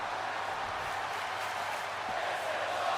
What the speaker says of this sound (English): the crowd again showing their appreciation for this great matchup between these two